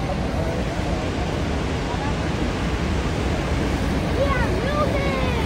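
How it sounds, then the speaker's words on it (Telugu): Niagara Falls, the Canadian Horseshoe Falls, roars as a loud, continuous broadband rush of falling water with wind buffeting the microphone, while people talk faintly in the background. "ఇది కెనడా ఫాల్స్, అదే నయాగరా ఫాల్స్"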